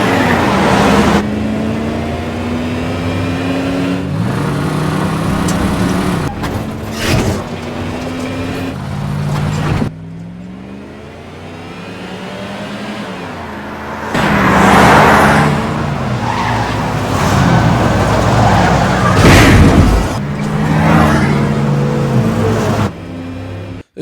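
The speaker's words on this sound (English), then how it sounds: "badly shot car chase with no music" Car chase from a Steven Seagal movie with no music: continuous engine roar and revving, repeated tire skids and squeals, and sharp impact bursts, loud throughout with a quieter lull midway.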